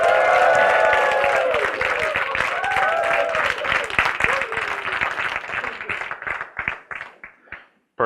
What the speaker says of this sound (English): if you guys could just cheer like that was really great